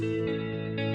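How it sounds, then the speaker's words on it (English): A tape echo effect on an Eventide H90 pedal, set with heavy wow and flutter: sustained, harmonically rich guitar tones that waver in pitch and shift in timbre partway through, steady and loud without any talking. "Got a bit too much wow and flutter on that tape echo"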